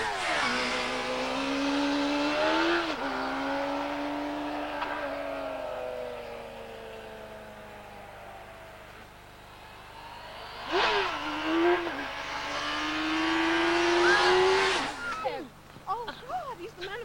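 Big motorbikes rev hard, their engine pitch climbing and falling in loud sweeping surges, with a second bike roaring up later; voices are audible in the mix.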